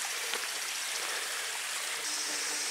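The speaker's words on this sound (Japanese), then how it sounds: "沢の音がするけど、水が 見当たらんな。" Mountain stream water flowing gently somewhere out of sight on a wooded hiking trail, a steady broadband rush with small splashes, moderately faint and continuous with no voices.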